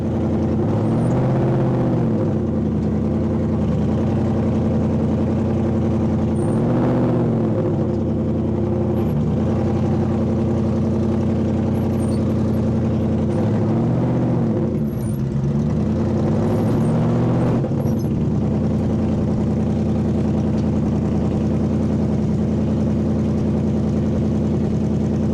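A car engine drones steadily while driving through a parking lot after a U-turn, with periodic rises and falls in revs as it builds a little speed; close, loud and continuous, no talking.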